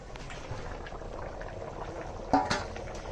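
Fish curry gravy bubbling in a pot, a soft steady simmer with a couple of louder pops near the end, heard up close and fairly quiet with no voices.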